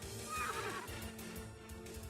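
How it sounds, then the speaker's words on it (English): A horse neighs distantly in the video game Core Crossing, one drawn-out whinny rising over a steady ambient game drone, with no talk. "Hear what seems to be a horse from afar"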